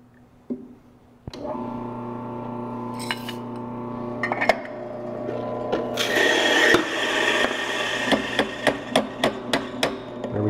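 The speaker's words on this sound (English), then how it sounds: "I'm going to grind this. You want a pretty fine grind." Coffee beans are ground fine for an AeroPress. A steady whirring grind with clinks runs throughout and turns into rhythmic clicking pulses toward the end, close up with no talking.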